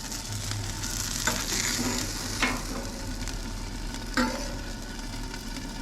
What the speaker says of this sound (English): Man, that looks sizzling good.